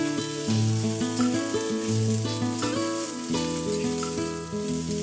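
Garlic and onion sauté in hot oil in a pan for a tinola chicken dish, giving a steady, fairly quiet sizzle partly masked by melodic background music throughout.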